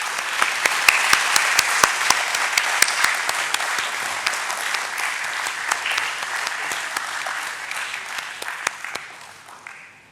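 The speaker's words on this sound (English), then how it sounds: "Ladies and gentlemen, a special round of applause for Mr. Ashish Kumar Chauhan" Audience at a stock exchange listing ceremony for SBI Cards and Payment Services giving a sustained round of applause, dense hand claps with sharp, near individual claps standing out, fading gradually toward the end.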